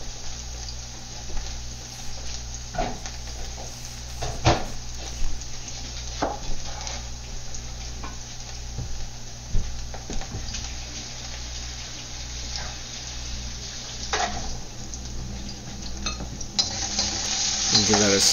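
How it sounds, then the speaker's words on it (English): Shiitake mushrooms fry in a pan with a steady, soft sizzle, broken by repeated utensil scrapes and clinks against the pan, all fairly close and with no talking. "So we're going to kind of fry the shiitake mushrooms for a few minutes."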